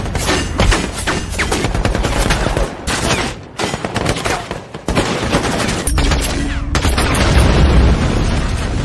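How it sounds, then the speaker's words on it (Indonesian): Heavy gunfire erupts in a war-film gunfight from American Sniper, with dense rapid bursts, booms and crackling shots almost throughout, briefly thinning in the middle before a loud, sustained barrage returns. "Tembak-menembak pun tidak terelakkan lagi"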